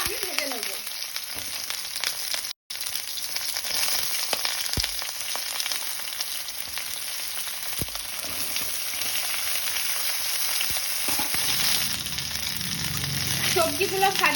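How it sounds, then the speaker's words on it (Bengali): Potato, pointed gourd and pumpkin fry in mustard oil in a wok, giving a steady, close sizzle throughout with occasional stirring clinks and scrapes. "আবারও একটু কড়াইতে সর্ষের তেল দিয়ে আমি বাকি সবজিগুলো ভেজে নেব।"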